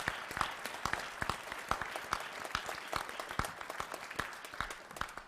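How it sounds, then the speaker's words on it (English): A small audience claps together in a sustained round of applause, the individual claps distinct and fairly quiet, with no talking over it. "So how about a round of applause for all those students here?"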